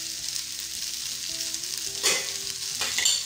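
Spicy masala okra (bhindi) fries in a pan with a constant close hiss, and two brief louder crackles rise as it is stirred.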